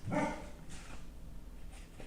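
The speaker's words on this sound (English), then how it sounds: "He's barking at people." A dog barks indoors at home, one fairly clear bark at the start followed by fainter yips or whimpers, quiet and slightly distant.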